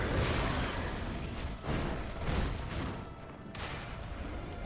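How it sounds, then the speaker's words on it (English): Cannons boom and strike an enemy in the action game Lies of P, a few heavy impacts and crashes over constant loud combat noise, close and forceful, with no talking. "The cannons hit him."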